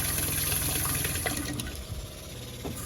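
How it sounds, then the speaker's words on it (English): Water gushes steadily from a newly installed household water system into a sink, a loud continuous rushing flow that eases slightly toward the end, with no talking. "Water flowing through a sink."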